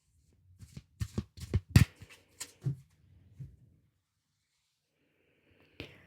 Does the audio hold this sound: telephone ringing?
no